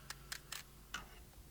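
A barbecue grill igniter clicks four times in quick, uneven succession, small sharp clicks close by over a faint background hum.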